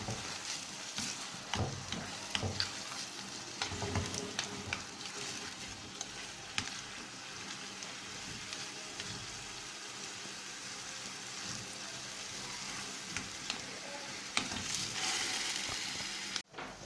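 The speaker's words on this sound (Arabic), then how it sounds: "هنبدأ نقلب البصل نحمره." Onions fry in ghee or oil while being stirred, giving a continuous low sizzle throughout with frequent scraping and clinking of the spoon against the pan, and no talking.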